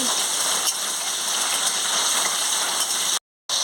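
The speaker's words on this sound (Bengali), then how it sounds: "আমি আলুটাকে লাল লাল করে ভেজে নিচ্ছি" Potatoes frying in hot oil in a pan give off a steady, loud, close sizzle with a crackling texture, which cuts out abruptly near the end.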